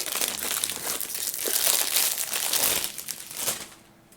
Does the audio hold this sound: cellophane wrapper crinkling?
yes